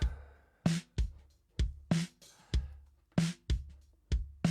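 Punchy kick and snare drums, heavily compressed through an 1176 compressor, trade off in a steady rock beat, dry and close with no other instruments.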